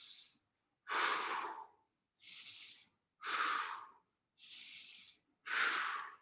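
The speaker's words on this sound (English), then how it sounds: "Stay in tune with your breathing." Heavy breathing during an adaptive fitness workout comes as six loud, close breaths in a steady rhythm, each a forceful hissing inhale or exhale separated by short pauses, with no one speaking.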